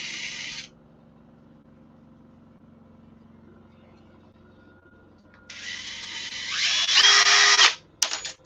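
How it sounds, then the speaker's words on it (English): A power drill bores holes in an airplane door, with two loud bursts of high whine, one short at the start and a longer, rising one near the end, separated by a quiet stretch of low hum. "Need to drill these holes."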